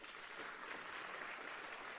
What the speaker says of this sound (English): Can we please give that a warm round of applause?